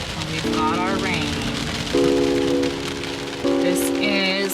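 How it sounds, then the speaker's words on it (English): Mountain rain falls as a steady, close hiss that stays even throughout, with a voice and sustained tonal sounds rising over it. "Oh, this is the rain we were waiting for."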